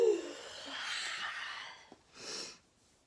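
An ujjayi yoga breath exhales as a soft, airy, throaty rush, followed by a second, shorter breath after a brief pause, close and quiet.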